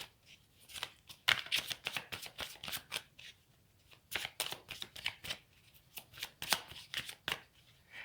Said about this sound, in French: On va aller prendre 3 cartes du tarot pour voir ce qu'on a comme autre énergie.